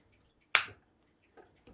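A plastic part of a saltwater aquarium filter snaps into place with a single sharp, close click, followed by two faint softer clicks in otherwise quiet surroundings.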